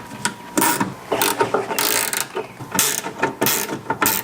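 A window regulator tensioner on a Ferrari 308 is loosened with a ratchet, giving close rapid clicking bursts separated by short pauses, with no talk.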